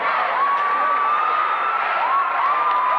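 Crowd at a high school boys basketball game in a gym, a dense steady roar of cheering and shouting that stays loud for three seconds.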